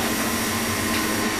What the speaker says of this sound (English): Silkscreen printer, which does 4 colors at a time.